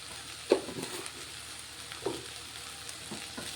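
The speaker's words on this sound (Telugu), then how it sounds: "ఇదంతా ఒకసారి కలిపేసుకున్నాం" Okra fry being mixed in a pan with coriander powder, a soft continuous sizzle with a couple of light scraping stirs, close by.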